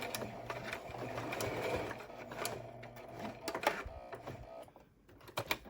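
A sewing machine runs in short bursts, stitching along a face mask seam with weed whacker cord, with pauses and small clicks as the fabric is lifted and turned; close and fairly quiet.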